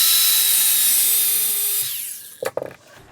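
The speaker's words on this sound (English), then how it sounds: "take the grinder and just walk it through the cut where you want to cut" An angle grinder cuts through a braided AN fitting hose, a high whine that winds down and stops, followed by a few brief clunks.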